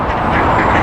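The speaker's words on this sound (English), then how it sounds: "So they all even see how many birds come around." Ducks quacking together in a dense, loud, continuous chorus of overlapping calls, heard close.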